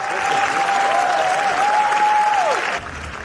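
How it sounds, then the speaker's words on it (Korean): An audience at a Cannes film screening gives a standing ovation, dense sustained clapping with a single voice singing or calling through it before the sound drops off near the end. "칸에 진출한 한국 영화 중 가장 긴 시간에 걸쳐 박수 갈채가 쏟아지자 감독과 배우들은 감격했고 이지은은 눈시울을 붉히기도 했습니다."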